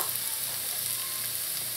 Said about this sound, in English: To the oil, I'm going to go in with some chopped onions. Just going to let this saute for about 20 seconds.